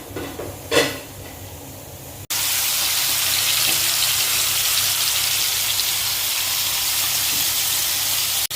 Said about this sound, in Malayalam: മീൻ ഇവിടെ വറുത്തുകൊണ്ടിരിക്കണു